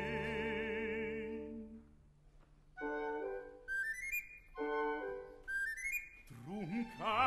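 Papageno's bird-catcher pipe in Mozart's Die Zauberflöte, the aria Der Vogelfänger bin ich ja, played as short bright rising whistle figures, repeated several times between sustained sung phrases, clear and close.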